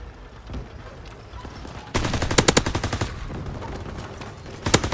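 Rapid machine-gun bursts crackle from a Call of Duty: WW2 battle, with loud clustered shots after a quieter stretch and a final volley at the end.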